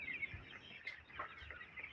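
Four-to-five-day-old broiler chicks, some with a pneumonia problem, cheep continuously in a brooder, a dense chorus of high, faint peeps with no talking.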